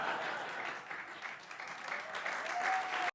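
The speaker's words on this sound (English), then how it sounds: "Round of applause." A crowd breaks into steady, fairly loud clapping that holds evenly throughout, then cuts off abruptly at the end.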